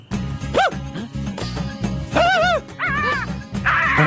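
Several dogs yip and bark in a rapid, overlapping series at close range, with some higher whimpering yelps mixed in, loud and continuous across the whole stretch with no talk over them.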